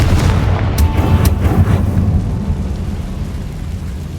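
A Confringo blast spell from the Hogwarts Legacy video game booms loudly with a deep rumbling burst, sharp crackling accents near the start, then a long rolling low-end tail that slowly fades.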